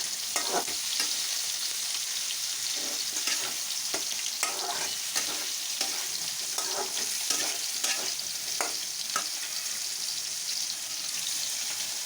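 Fish cooks in a pan for a fish curry, a constant close sizzle under repeated scraping and clattering stirring strokes throughout, without any talking.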